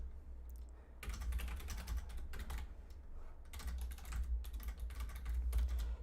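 Fast keystrokes clatter on a computer keyboard, quiet and close, in uneven bursts of typing over a low steady hum.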